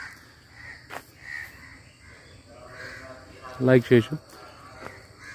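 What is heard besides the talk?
birds chirping, crows cawing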